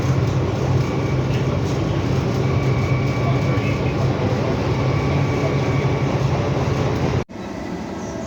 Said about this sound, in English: There it goes, the Stourbridge Shuttle.